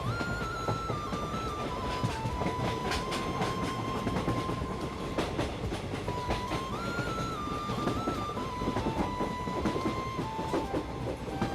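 A moving passenger train on the Malda to Hooghly route rattles steadily over the rails, with continuous clickety-clack and a rolling rumble close by, no voices.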